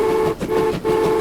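A train pulls out of the depot in the Transport Fever 2 video game, sounding a steady, tonal horn-like hum that drops out twice in quick pauses before resuming, with a low engine rumble beneath.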